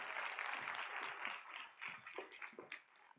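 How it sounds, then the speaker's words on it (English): Applause from an audience at a leadership summit for the panel moderator, a dense clapping wash that stays full for a couple of seconds and then thins into a few separate claps. "Can we please give our moderator a big round of applause"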